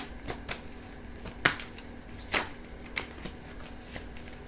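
Tarot cards are shuffled and drawn close by, a soft riffling with sharper slaps and snaps at irregular moments over a quiet room.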